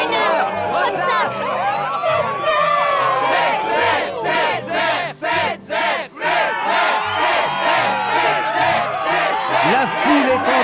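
A large crowd roars and cheers at a Struggle match in Kingdom Hearts II. It is a loud, continuous swell of massed shouting with a few brief dips, and individual excited cries rise throughout.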